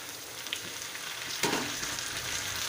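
Okra and tomato sauté in a pan for a tamarind okra dish, giving a dense steady sizzle with a brief scrape from stirring midway.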